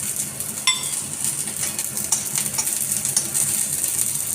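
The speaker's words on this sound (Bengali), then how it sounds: "দিয়েছি পালং শাক একদম সিমটি রান্না করছি এটাতে রসুন ফোড়ন দিয়েছি" Spinach stir-frying in a pan with a little oil, garlic, green chilli and black cumin, giving a close, steady sizzle broken by sharp clinks of a utensil scraping and stirring.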